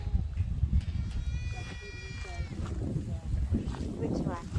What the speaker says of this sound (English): there's a lot of goats